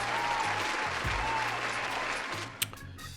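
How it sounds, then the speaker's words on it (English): Loud, continuous clapping from an audience carries on throughout, with a low hum beneath and a sharp knock near the end. "Give her a round of applause for that one."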